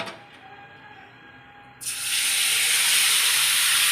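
Fish is lowered into hot oil in a home kitchen, and after a quiet moment a loud, steady sizzle bursts up suddenly and keeps hissing close by.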